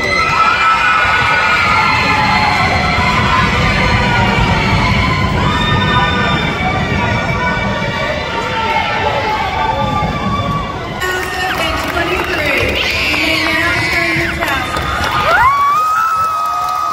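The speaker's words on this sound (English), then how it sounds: "Somebody else is yelling." Children and a crowd yell, shout and cheer loudly and continuously at a graduation, a dense wall of overlapping voices with no letup.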